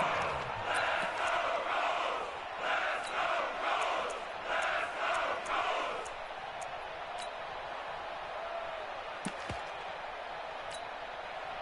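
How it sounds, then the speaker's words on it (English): A stadium crowd in a PS4 football video game roars in rising swells as a big third down approaches, then settles into a steady murmur with occasional sharp ticks. "The crowd getting into it as we come up on a big 3rd down"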